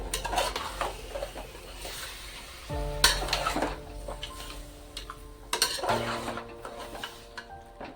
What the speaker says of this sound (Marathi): लसूण कोथिंबीर हळद आणि मीठ ते टाकून घेते. छान परतून घेते त्याच्यामध्ये कांद्यामध्ये.